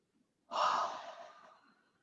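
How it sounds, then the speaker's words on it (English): One deep breath in during a slow exercise routine, close and soft, starting abruptly and tapering off over about a second and a half. "Inhale."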